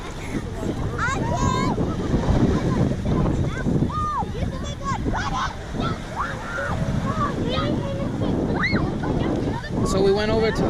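Wind gusts across a beach on Castaway Cay, rumbling against the microphone over washing surf, with voices talking and birds chirping throughout.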